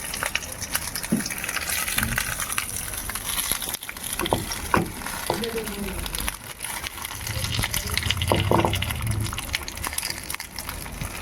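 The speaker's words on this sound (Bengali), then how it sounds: "একটু জল দিয়ে দিলাম" Water gushes into a pan holding hilsa fish and taro leaves, a steady splashing pour over several seconds with some stirring clatter, close and moderately loud.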